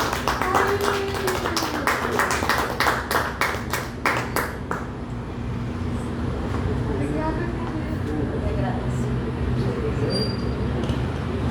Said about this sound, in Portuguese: Uma salva de palmas para receber Gisleide